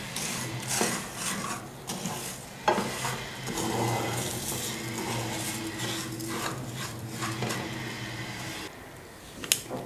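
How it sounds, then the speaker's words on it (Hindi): Sugar cooking in a pan on a slow flame for khoya malai kulfi, a steady soft sizzle under repeated scraping stirs, with occasional light clinks of the spoon against the pan, close and moderately quiet. "चीनी जो है वो स्लो फ्लेम पर मैंने रखी हुई है।"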